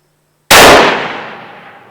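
A single sharp rifle shot cracks out suddenly after silence, loud and close, then rings and decays with a long metallic echo under a tin roof, like a cannon blast; no voices.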